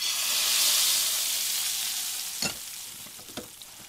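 Refried beans sizzling in hot beef tallow in a pan, a loud, even hiss that eases slightly, broken by a couple of short clattering stirs near the end, close by and without voices.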